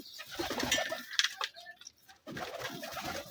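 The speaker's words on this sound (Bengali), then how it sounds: "প্রথমে কবুতরগুলোকে খেতে দিয়ে নিচ্ছি" Low pigeon coos and soft rustling near at hand as the pigeons are fed, broken by a brief quiet gap before the cooing resumes.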